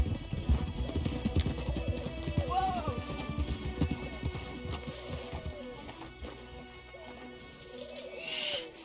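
Rapid horse hoof clip-clops in the video game Red Dead Redemption 2 patter for a few seconds, then slow and fade, with a short whinny and game ambience around them.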